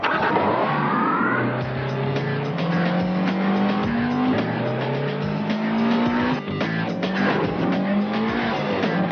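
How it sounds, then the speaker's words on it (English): A Honda S2000 Roadster, a 240 horsepower sports car, drives hard with revving engine tones rising in repeated gear-like sweeps, accompanied by tire squeals, loud and continuous throughout. "Introducing the 240 horsepower S2000 Roadster from Honda."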